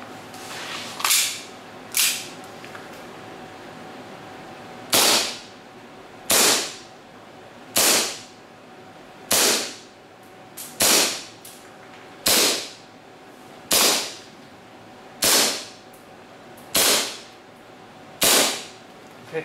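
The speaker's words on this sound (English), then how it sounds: "we test with .2 BB and 12 grams CO2 cartridge" A RA-TECH-tuned WE G18C CZ75 airsoft CO2 pistol fires .2 BBs at an 8-meter indoor range. Fourteen or so sharp, close pops come at irregular intervals of about one to two seconds, with no talking.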